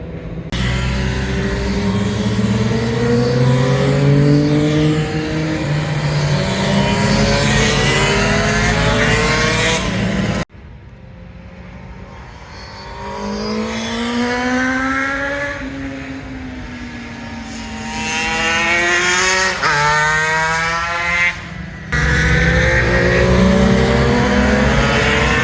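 Suzuki RGV two-stroke motorcycles scream around the Cadwell Park race track, loud buzzing engines climbing and dropping in pitch through the gears as bikes pass close and fade, with a brief cut to quieter passes midway.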